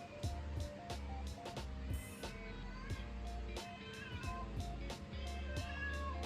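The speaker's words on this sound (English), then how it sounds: "That cat is meowing." A cat meows repeatedly indoors, a series of short, fairly loud yowls in uneven rhythm close by, with some clattering around them.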